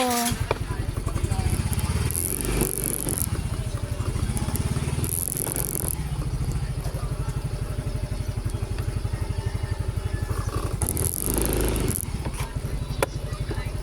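A motorcycle engine drones steadily as it rides along, with a rhythmic putter and occasional rattles, and voices talk intermittently over it.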